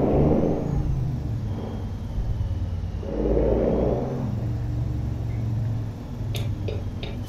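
A 1992 Peterbilt 379 truck engine in American Truck Simulator rumbles steadily at a low pitch, with a few gentle swells in loudness as it runs, and no talk over it.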